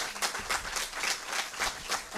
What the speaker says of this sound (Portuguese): Epá, batem palmas outra vez